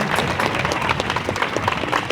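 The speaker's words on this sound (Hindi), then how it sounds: "लक्ष्मण टाना भगत जी, जोरदार तालियों से स्वागत करेंगे।" A crowd at an outdoor public gathering in Lohardaga breaks into lively applause to welcome a guest, dense overlapping clapping that holds loud and steady throughout.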